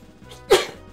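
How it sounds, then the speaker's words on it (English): A Digimon character in the game Digimon World DS gives a single short, sharp sneeze, loud and close, over quiet game background sound. "Jinzu is sneezing."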